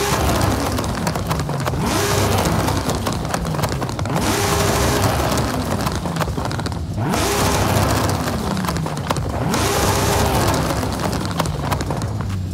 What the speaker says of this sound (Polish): A to jest turbo z antylagiem.